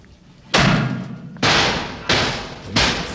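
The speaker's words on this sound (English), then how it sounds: "So, what are you banging your head for?" Someone bangs their head against something in a locker room: four loud, heavy thuds spaced under a second apart, each ringing briefly before the next, with no talk.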